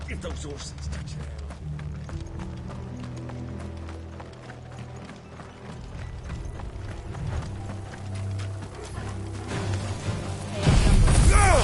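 Horses gallop with steady clip-clop hoofbeats through a battle scene in Final Fantasy 16, mixed under shouting voices and game music, growing louder and more chaotic near the end.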